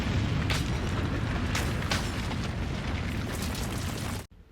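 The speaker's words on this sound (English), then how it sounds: "That is a lot of destruction and explosion." Anime battle explosions and destruction rumble continuously and loudly with a few sharp bursts on top, dense low roar throughout before cutting off abruptly at the end.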